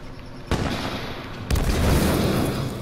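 Gunfire from a video game erupts in two loud bursts, the second opening into a sustained rattling barrage close by, with no voices in the moment.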